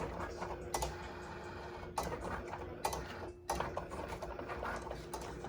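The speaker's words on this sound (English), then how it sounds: "your printer is going to start printing" A printer feeds and prints a vinyl label sheet for a Cricut Explore Air 2 project, giving a steady close mechanical whir broken by periodic clicks and feed thumps, with no talking.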